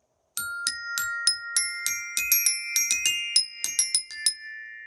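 Bright metallic bell lyre tones struck in a quick, marching rhythm playing the opening of the British Grenadiers march, each note ringing briefly with clear overtones, played alone and fairly close.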